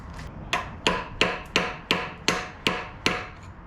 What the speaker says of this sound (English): you can use a hammer and a screwdriver, and you can tap this little housing out